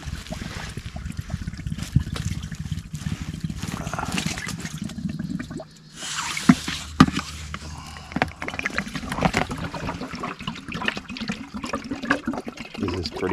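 Water pours steadily into a 5-gallon jug outdoors, a continuous gurgling, splashing fill that holds close and fairly even, with a short dip midway and a few sharper knocks and splashes.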